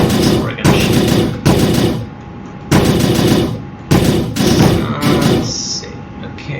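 Spaceship guns fire at a pirate in the space game Materia Ex Vita, loud bursts of rapid automatic shooting repeating in several roughly one-second volleys separated by short gaps.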